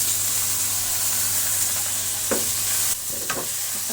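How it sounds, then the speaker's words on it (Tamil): Tomatoes and onions sautéing in a pan for a prawn masala gravy: a steady soft frying hiss runs throughout, with a couple of brief stirring scrapes near the end. "தக்காளி பழத்தை நல்லா வதங்கிட்டோம்."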